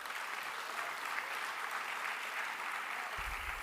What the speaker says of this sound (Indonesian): Tepuk tangan ini buat Pak Nusron.